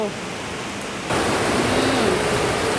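Rain pours heavily during a storm, a dense, loud hiss that swells abruptly partway through and stays constant, with no clear voices over it.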